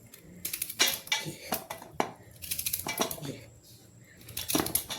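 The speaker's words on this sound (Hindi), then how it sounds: "ये अब हम ऐसे छोटे छोटे पीसों में इसको काट लेंगे" Radish being chopped into small pieces for pickle, with a knife tapping and clacking against a hard surface in quick irregular bursts, close and moderately loud, with a few pauses between strokes.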